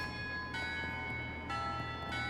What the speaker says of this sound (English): You hear the ringing of cathedral bells.